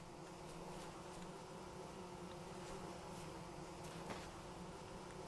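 Faint, steady insect buzzing from bees near their hive in Vintage Story hums continuously under a soft ambient wash, with no talking.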